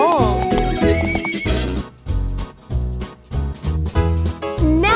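A horse neighs with loud, wavering whinnies over rhythmic clip-clopping hooves, the calls rising and falling close up amid a steady trotting beat, set to a children's farm-animal song.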